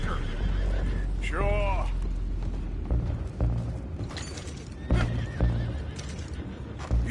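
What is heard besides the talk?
horses neighing and hooves in video game Red Dead Redemption 2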